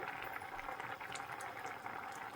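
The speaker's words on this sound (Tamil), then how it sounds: "நல்லா கொதி வந்துட்டுது" Steady bubbling of anchovy coconut-milk broth at a rolling boil in a pot, a continuous fizzing, gurgling texture with no voices.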